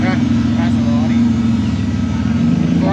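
A Ferrari Dino sports car cruising in a street parade at a concours d'elegance in Noosa, its steady engine drone continuous and fairly loud, with people talking over it throughout.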